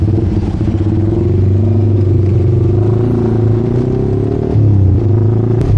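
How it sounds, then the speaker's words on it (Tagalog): Road traffic on a long ride toward Kaybiang Tunnel, heard as a loud, close engine rumble with clattering tones that hold steady and shift in pitch near the end, with no talking. "Yun no, traffic dito."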